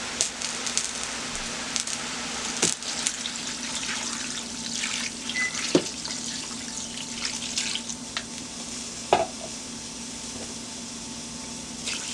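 Water is poured into a pot holding garden egg and green plantain, a steady running, splashing pour with scattered clinks and knocks throughout, close and moderately loud.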